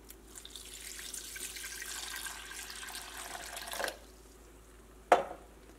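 Water pours steadily into a pot of tamarind for about four seconds, splashing close by, then stops, and a single sharp clink follows.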